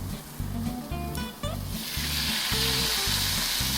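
Tomatoes hit a pan of sautéed vegetables for shakshuka, sparking a loud close sizzle that swells and stays steady, with a few clinks and a low speaking voice underneath.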